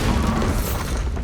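A Bombarda blasting spell explodes in Hogwarts Legacy combat, a single loud, full-bodied boom with crackling debris filling the whole moment, no voices over it.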